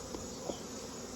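Honey bees on a hive frame make a brief, faint, steady buzzing hum, heard alone with no voices.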